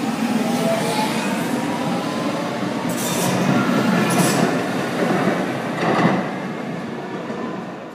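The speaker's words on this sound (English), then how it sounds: "There's a train!" A subway train rumbles steadily through a late-night metro station, loud and continuous with rail clatter, brief high squeals of the wheels and a swelling surge of noise near the end.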